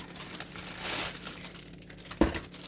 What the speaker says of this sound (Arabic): انا نقلته في كيس حراري بتاع الفرن